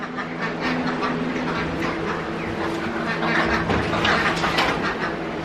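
Pet quail bustle around their enclosure, a dense, continuous wash of close chirps, scratching and rustling with no pauses.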